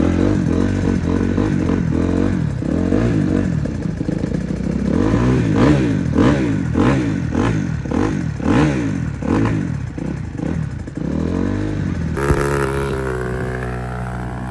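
A Suzuki RMZ 250 dirt bike engine runs and revs loudly and close by, its pitch rising and falling in repeated throttle blips before settling into a rougher idle.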